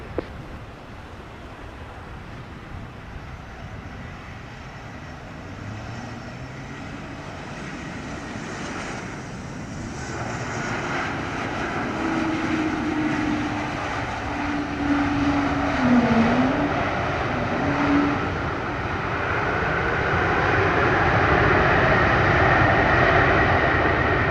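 A Sunwing airliner on approach to runway 07 at Montego Bay over a wet runway, its steady engine roar slowly building and growing louder over the clip, heard alone without voices.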